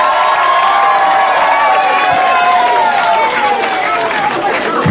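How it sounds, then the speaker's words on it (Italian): Crowd at an outdoor street hip-hop event cheering and applauding loudly, with shouts and whistles riding over continuous clapping and a voice calling out over the noise. "fatevi un applauso al mio 3, 1,"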